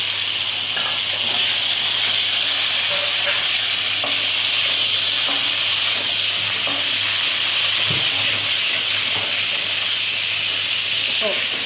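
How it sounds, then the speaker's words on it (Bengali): Cauliflower frying in hot oil in a pan for a fish curry with katla, giving a steady, close sizzle and hiss throughout, with occasional stirring clatter and brief low talk. "এবার আমি কপিটা ভেজে নেব।"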